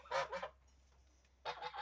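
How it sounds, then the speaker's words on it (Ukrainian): Geese honk in two short bursts of loud, nasal calls separated by a quiet pause, close by with no talking. "Ось мої гуси."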